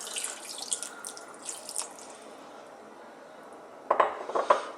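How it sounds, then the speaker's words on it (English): Water splashed into a pan of Indian fish curry, a soft pouring wash with a few brief clinks and splashes near the end, close and fairly quiet. "you can always add just a little bit of water, like I'm going to do here. Just a little splash here and there."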